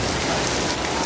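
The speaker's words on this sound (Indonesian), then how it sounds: "udah mulai hujan ya" Steady rain falls over an outdoor wholesale vegetable and chili market at Pasar Induk Cibitung on a morning after three days of light rain, a dense continuous hiss of drops filling the whole clip with no voices.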